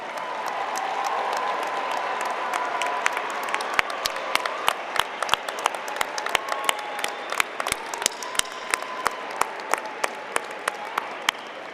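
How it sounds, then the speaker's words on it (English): Graduates at a fall commencement ceremony applaud their families and friends, producing sustained crowd clapping that fills the hall, with sharper individual claps standing out as it continues. "face your families and friends, and give them a big round of applause"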